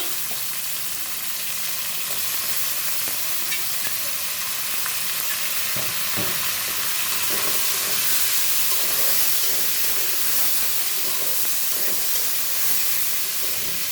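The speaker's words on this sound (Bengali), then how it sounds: "দেখো পেঁয়াজ রসুনটা সুন্দর ভাজা হয়ে গেছে এবার সবজিগুলো দিলাম" Potato, radish and bean pieces sizzle loudly in a pan of frying onion and garlic, a steady, bright hiss with occasional crackles and stirring clatter.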